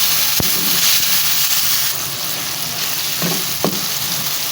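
Sliced tomatoes and five or six green chillies frying in a pan to soften: a loud, continuous broadband sizzle with a few sharp clacks from stirring, alone without talk.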